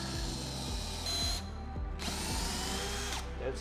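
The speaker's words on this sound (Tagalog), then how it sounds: "Siyempre, gamit yung ating Fatmax the drill na sobrang solid." Stanley Fatmax power drill driving a screw into wood while mounting a floating shelf, a steady close whir with short bursts and pauses as the screw seats.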